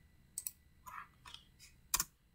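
A few quiet keystrokes on a computer keyboard, heard close up in a quiet room as short clustered clicks with small pauses between them.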